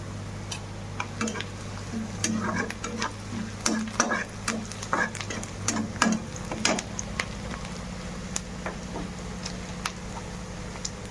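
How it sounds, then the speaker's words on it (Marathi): Onion fries in a pan with mustard seeds and cumin, giving a quiet steady sizzle broken by irregular ticks and crackles. Occasional scrapes from stirring come through. "कांदा भाजत आलाय. थोडीशी मोहरी आणि जिरी."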